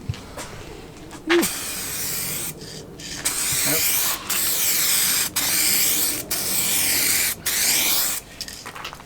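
Spray painting coats onto a car, a series of loud hissing bursts from a spray can or gun separated by brief pauses, with a few faint rustles and knocks at the start, up close.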